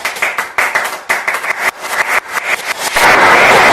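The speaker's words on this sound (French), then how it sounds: "Applaudissements pour Jordan, s'il vous plaît." A French audience at a hypnotist show claps for a volunteer named Jordan, starting as rhythmic, evenly spaced group clapping in bursts that breaks into a dense, sustained round of applause near the end.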